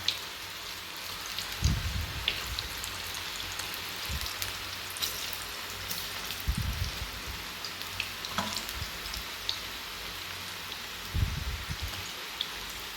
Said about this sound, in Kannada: ಈಗ ಎಣ್ಣೆ ಕಾದಿದೆ. ಈಗ ನಾನು ಆನಿಯನ್ ಪಕೋಡ ಬಿಡ್ತೀನಿ.